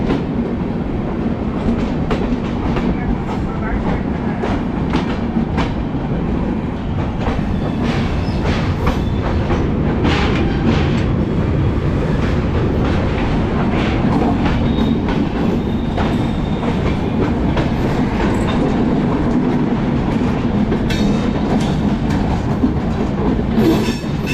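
The New Delhi–Dibrugarh Rajdhani Express crosses on the adjacent track near Lucknow, heard from aboard a train as a loud, sustained rumble with rhythmic clickety-clack and occasional wheel squeal throughout.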